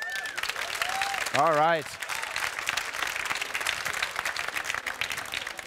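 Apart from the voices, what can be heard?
audience round of applause at award show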